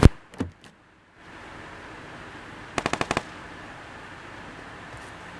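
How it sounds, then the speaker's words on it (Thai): Gunfire in the battle-royale video game PUBG: a couple of sharp shots open, then after a lull of steady background hiss a rapid burst of about five loud automatic shots rings out. "เสียงปืน"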